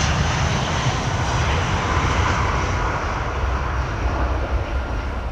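A Singapore Airlines Boeing 767, 31 years old, roars steadily on approach to Heathrow, a continuous loud jet engine rumble with broad hiss, no voices over it.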